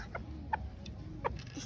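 A few soft, short chicken clucks sound at a distance over a low background rumble.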